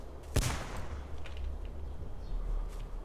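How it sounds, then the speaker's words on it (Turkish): A single sharp gunshot in a night-time video game session rings out early, fairly near and loud, then fades into a low ambient rumble with faint scattered sounds after it. "Silah mıydı o?"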